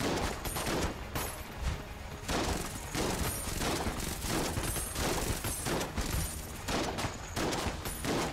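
Rapid enemy gunfire and bullet patterns in the video game Enter the Gungeon, a continuous loud barrage of pulsing shots layered over game music with no let-up.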